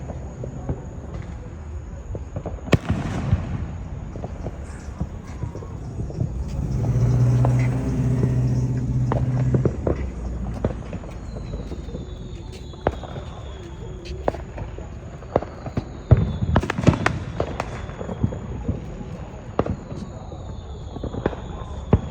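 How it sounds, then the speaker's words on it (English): Neighborhood fireworks shot off from people's yards pop and bang sporadically near and far, with sharp reports and a swelling rumble from a passing car in between, crackling bursts clustering near the end. "People are standing in their yard shooting fireworks."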